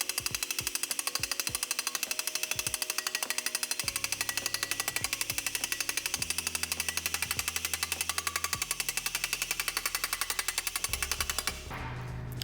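Rapid, relentless hammering with a rubber hammer, a dense stream of sharp hits on sheet metal being shaped, shifting pitch now and then and stopping abruptly near the end.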